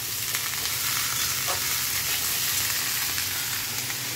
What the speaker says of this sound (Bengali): সবজিগুলো দিয়ে ভালো করে এবার নেড়ে চেড়ে নেব।